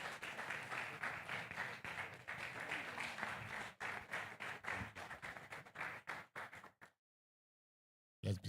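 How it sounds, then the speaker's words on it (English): An audience applauds as a speaker comes onto the stage at a morning Independence Day church gathering, dense steady clapping that thins into scattered claps before cutting out, then briefly resuming. "Please a round of applause for him as he comes on stage this morning"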